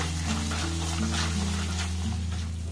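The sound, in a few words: gram flour boondi frying in oil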